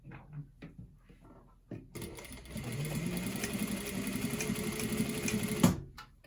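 A sewing machine tacks back and forth about an eighth of an inch over a serge. A few soft clicks come first, then a close, steady run of rapid stitching lasts several seconds before stopping.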